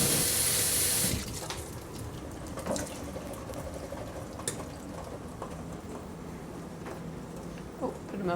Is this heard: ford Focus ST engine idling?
no